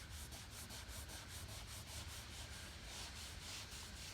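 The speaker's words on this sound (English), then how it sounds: "You add a little bit of the mineral oil to the cloth, and you just wipe it across the top." A microfiber towel soaked with mineral oil is wiped across rubber car trim in quick, steady back-and-forth strokes, producing a faint, soft rubbing heard up close with no voices.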